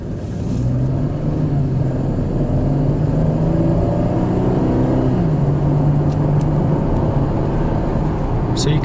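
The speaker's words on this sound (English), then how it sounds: "one of the things I really like about this exhaust note on the Camaro" A 2013 Chevy Camaro's exhaust drones steadily at an even, moderate acceleration, the engine tone climbing then dropping briefly after a shift before rising again, heard from inside the cabin.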